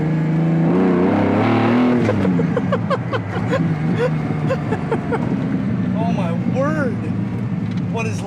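A Lamborghini Diablo engine revs and shifts through gears with a manual clutch while driving, loud and close, with people talking excitedly over it.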